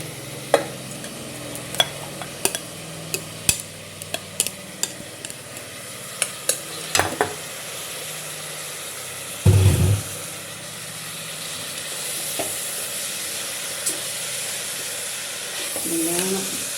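Six chopped onions fry in a pan for chicken biryani, a soft continuous sizzle punctuated by sharp clinks and scrapes of a stirring spoon, with a brief louder burst midway.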